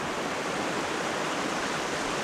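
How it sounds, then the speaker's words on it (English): Mountain stream water rushes steadily at a creek crossing on Mt. Hood's Timberline Trail, a dense, even broadband wash, close and constant with no voices. "Another water crossing."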